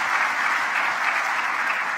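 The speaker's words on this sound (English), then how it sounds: "A big round of applause." An audience at a youth summit opening ceremony breaks into sustained, even applause, a thick wash of many hands clapping without pause.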